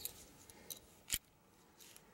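A 2016 Ford F150 flip key's blade snaps out with one sharp, close metallic click against a quiet background.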